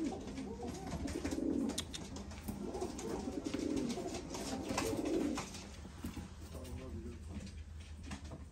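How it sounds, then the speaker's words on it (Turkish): Ornamental birds at a breeder's aviary in Istanbul, with pigeon-like cooing and scattered calls running continuously at moderate level beneath ongoing talk. "Gerçekten çok güzel kuşlar yetiştirmiş arkadaşımız."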